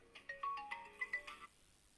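A phone ringtone for an incoming call sounds as a short melodic run of bright electronic tones, fairly faint, lasting about a second and a half before stopping.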